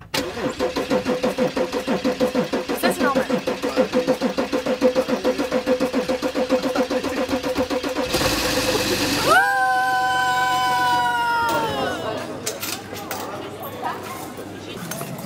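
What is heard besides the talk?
car engine struggling to start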